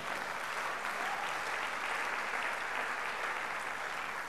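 A church congregation claps in sustained, even applause, a steady wash of many hands from a room full of people without a break.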